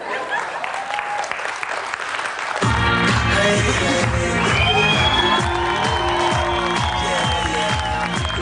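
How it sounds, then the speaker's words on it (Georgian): A live comedy-show audience bursts into loud applause with cheers and whoops, a dense roar of clapping that swells as music with a steady beat enters under it. "დამიკარით ტაშები"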